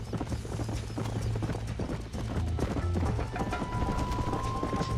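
Horse hooves gallop in a steady, rapid clip-clop rhythm in the Western video game Red Dead Redemption, close and continuous over a low rumbling game soundscape with faint tonal music.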